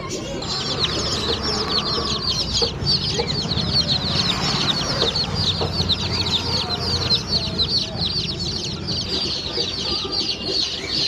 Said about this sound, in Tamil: நம்ம கடையில் கலர் கோழி கொஞ்சம் இருக்குங்க